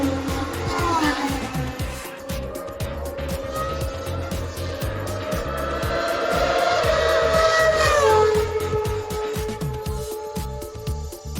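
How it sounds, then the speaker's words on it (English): Classic Formula 1 cars racing past out of the Parabolica at Monza, a dense, loud engine roar with rising and falling pitch sweeps as the cars pass, sustained throughout with some talk. "We're running some classic F1 cars right now."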